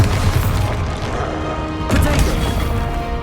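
A Bombarda blasting spell explodes in the Hogwarts Legacy video game, with a loud booming blast that repeats about halfway through over continuous battle noise.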